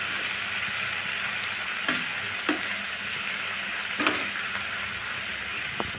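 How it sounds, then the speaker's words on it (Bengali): Washed cabbage fries in a pan with a steady, even sizzle, broken by a few sharp scrapes and knocks of a spatula as it is stirred and mixed, close and without talk. "এ পর্যায়ে দিয়ে দিব ধুয়ে রাখা বাঁধাকপিগুলো। এখন ভালো করে নেড়ে মিশিয়ে নিব।"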